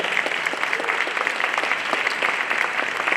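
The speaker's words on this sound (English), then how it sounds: "Can we give them and their families a round of applause?" A crowd at a high school hall of fame ceremony applauds its inductees and their families, loud and sustained clapping from many people filling the room evenly throughout.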